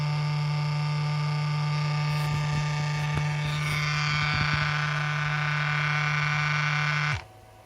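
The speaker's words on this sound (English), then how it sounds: "the more time you save by using the vacuum device" A vacuum pump runs with a steady droning hum and whine, loud and close, with a few faint clicks, then shuts off and winds down; it is drawing air bubbles out of differential oil.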